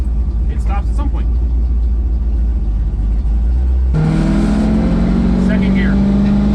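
A supercharged 1967 Chevrolet Nova engine drones loudly while driving, then climbs in pitch on a rising rev as it pulls through a gear change, with steady road and wind noise throughout.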